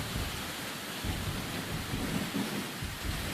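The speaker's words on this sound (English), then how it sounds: "The lightning struck a tree right in front of the cameraman." Thunder rumbles through a heavy storm, with steady rain pouring the whole time, just after lightning strikes a tree close by. The low rolling roar stays dense and fairly loud throughout, with no voices.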